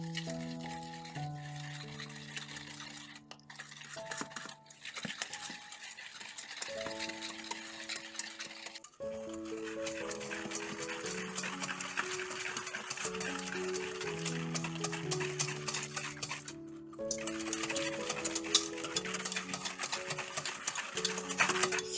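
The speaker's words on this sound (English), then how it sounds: "and we're just whisking that." Egg yolks and sugar whisked in a bowl, a soft, steady rhythmic ticking and scraping beneath a tonal music bed, faint and close, with brief pauses.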